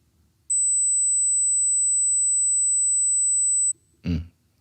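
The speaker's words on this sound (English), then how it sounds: "That one's high. I would say that's 8K." A high, thin 8 kHz sine test tone holds steadily for about three seconds, pure and piercing, followed by a brief soft thump.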